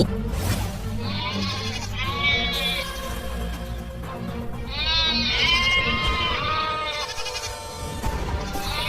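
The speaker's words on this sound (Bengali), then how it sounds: "এতগুলো ছাগল কখন নিয়ে এলেন আপনি?" Several cartoon goats bleat in a village scene, wavering, close cries overlapping in bursts over a background music bed, with no talk.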